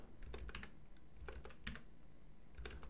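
Someone types on a computer keyboard while working in Blender, with quick clusters of close, crisp key taps separated by short pauses. No one speaks.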